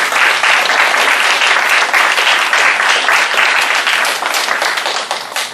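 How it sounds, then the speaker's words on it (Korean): A church youth congregation bursts into loud, sustained applause after a worship song performance, dense steady clapping filling the room without pause for several seconds. "우리 코이노니아가 앞으로 더욱더 하나님 앞에 귀하게 쓰임받도록 격려하며 박수하도록 하겠습니다."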